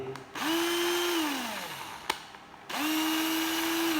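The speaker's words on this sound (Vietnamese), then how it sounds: "Chiếc này tôi đã đóng pin, máy chạy rất là êm." A Japanese-market, Spanish-made cordless drill/screwdriver with 15 torque settings and a drill mode, run on battery, spins up twice with a smooth steady whine, each run rising and holding, separated by a brief stop and a sharp click.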